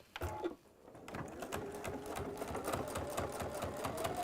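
A sewing machine stitching fabric in a rapid, even mechanical patter after a brief start-up pause, the rhythmic needle beats continuing steadily and close at moderate volume.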